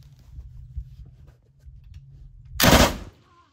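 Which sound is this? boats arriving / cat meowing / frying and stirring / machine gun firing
machine gun firing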